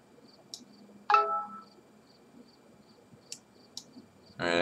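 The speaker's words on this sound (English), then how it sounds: "Alright, I may have to turn my phone notifications off." A phone notification chimes over a quiet background: a short ringtone-like burst followed by a few faint clicks and blips, with another tone starting at the end.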